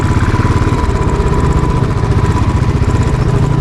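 Motorcycle engine running steadily on a rough, dangerous mountain trail, a continuous loud rumbling drone with vibration throughout and no talk.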